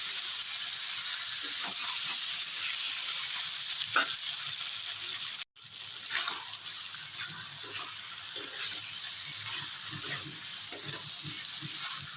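Cabbage sautéing in mustard oil in a kadai, tempered with dried red chilli and nigella seeds, a steady close sizzle with scraping stirs throughout and one brief dropout midway.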